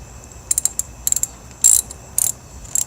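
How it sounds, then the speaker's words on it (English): A ratchet wrench tightens a battery terminal bolt on a 2006-2012 Toyota RAV4, making several short bursts of quick metallic clicking with brief pauses between them. The clicks are close and fairly loud. "Now tightening this terminal on."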